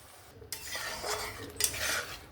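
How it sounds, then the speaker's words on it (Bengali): Spice paste with water being stirred and fried in a pan for a raw jackfruit and prawn curry: close metal scrapes and utensil knocks against the pan over a soft sizzle, with two sharper strokes standing out. "মশলা ধোয়া জলটা দিয়ে আমি ভালো করে একটু কষিয়ে নেব।"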